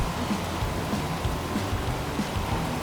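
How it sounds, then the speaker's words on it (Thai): Rain in the racing video game Forza Horizon 5, a steady loud hiss of falling rain with faint low rumbling underneath, continuous throughout. "โอ้โหฝนตกฮะฝนตก"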